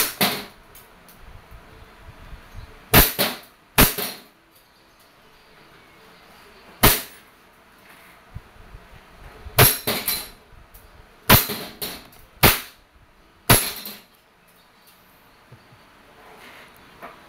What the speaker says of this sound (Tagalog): this is the WE Glock 17 Gen 5 Gas Blowback Airsoft Pistol